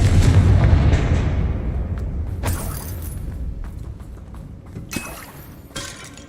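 A Confringo fire spell from Hogwarts Legacy lands as a heavy booming blast that rumbles and decays over several seconds, followed by sharper crackling impacts and smaller bursts in the battle.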